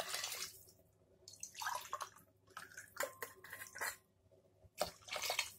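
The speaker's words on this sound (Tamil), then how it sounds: "அந்த வேக வச்ச கறியோட சூப்பு, அதையும் இப்போ போட்டுக்கலாம்" Mutton soup from boiled meat being poured into a cooking pot for biryani, irregular splashing and gurgling bursts of liquid separated by brief pauses, fairly faint and close, with no speech.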